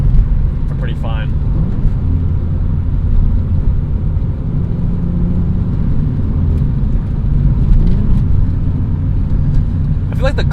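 A 1998 BMW M3 E36 drives along, its engine and road rumble a steady low drone inside the cabin, with a person talking over it throughout.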